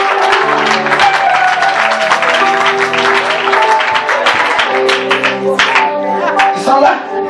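A church congregation claps and cheers loudly and continuously in acclamation of Jesus, with dense, steady applause and voices and a sung or spoken tone running through it.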